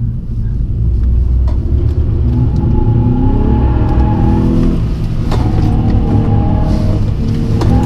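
A Hyundai Veloster Turbo with a 1.6 turbo engine and seven-speed DCT accelerates hard on a test drive. A loud, continuous engine drone rises steadily in pitch, drops briefly at a gear change, then climbs again, heard from inside the car.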